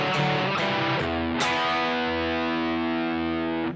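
Distorted electric guitar plays a verse phrase, a few picked notes followed by a long sustained, ringing chord, loud and alone.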